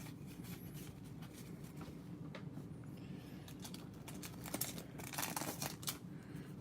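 Packs of junk wax baseball cards from rack pack boxes being ripped open, with steady crinkling and tearing of wrappers close up, growing a little busier toward the end.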